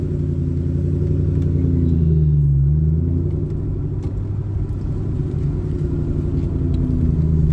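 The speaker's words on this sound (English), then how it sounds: "These 4-valve motors, they have such a unique burble to them." A 2004 Mustang SVT Cobra with a 4-valve V8 burbling while driving, a loud, close, steady low rumble with a slight rise in pitch midway, heard alone.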